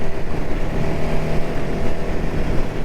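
A 1978 Honda CB400 motorcycle cruises at steady, relaxed revs on an 18-tooth sprocket, its engine drone continuous and close with wind rush, no voices.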